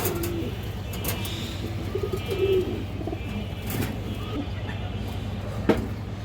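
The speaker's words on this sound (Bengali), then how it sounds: "ইন্ডিয়ান হাইফ্লার কালদম কবুতর আছে ক্রিম চোখের" Indian highflyer pigeons, a cream-eyed kaldam pair, coo softly in low repeated murmurs close by, with a steady hum and faint chirps from other birds around.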